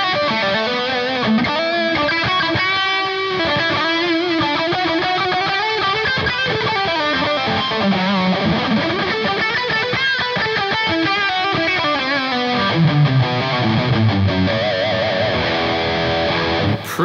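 Distorted electric lead guitar through a HeadRush unit with synced delay adding ambience, loud sustained bending melody lines with echo tails trailing behind, played alone without talk.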